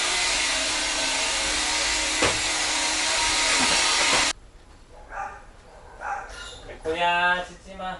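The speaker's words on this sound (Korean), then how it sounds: "우리 집 오늘 손님이야, 짖지마." A pet dog barks indoors in a small room at home, with several short barks following a loud, sustained whooshing machine noise that stops abruptly, and voices nearby.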